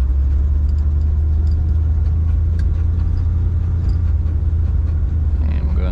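A 1957 Chevrolet Bel-Air convertible on the move, its engine running as a steady low rumble with road noise throughout, continuous and close, with no talking over it.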